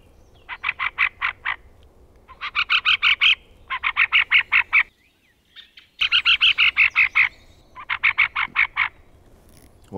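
A bird decoy call imitates the fieldfare's harsh chattering cry in rapid bursts of five to eight clipped notes, repeated in separate groups with short pauses, close and clear against a quiet outdoor background.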